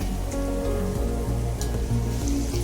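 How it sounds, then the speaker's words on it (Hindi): Chopped onion sizzling in hot oil in a pan, a close, steady crackling hiss with a faint low hum beneath. "अब तेल में हम कांदा डालेंगे"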